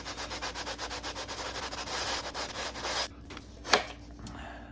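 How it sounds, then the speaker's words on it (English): Rhythmic back-and-forth sanding of acoustic guitar top or back wood on a sanding beam, a quick steady scratching stroke that stops abruptly, followed by a faint knock and quiet room tone. "So we're going to sand again"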